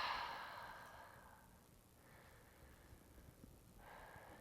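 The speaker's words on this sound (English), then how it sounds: "So I'm going to take a couple breaths." Slow, deep breaths taken during a massage-ball stretch of the glute, three long airy exhales spaced a couple of seconds apart, close and quiet.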